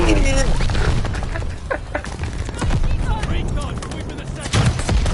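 Rapid bursts of video-game gunfire crackle continuously, layered with booms from a busy online shooter battle, while a player talks over the shooting.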